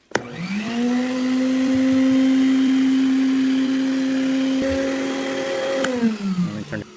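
A Vacmaster 4-gallon shop vacuum with a brush head fitted to the wand switches on, spins up to a loud steady whine, runs evenly for several seconds, then winds down after switch-off.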